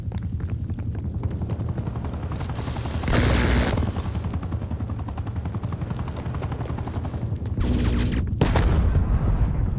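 Bursts of AK rifle fire in Call of Duty: Black Ops Cold War crack out in two loud clusters over a steady rumble of battle noise, with no talking.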